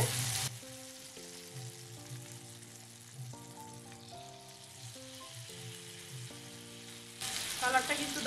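Bread sticks made from sliced bread fry in oil in a wok, giving a bright sizzle at the start and again at the end, with soft melodic background music filling the middle.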